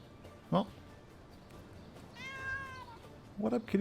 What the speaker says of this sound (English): What up, kitty cat?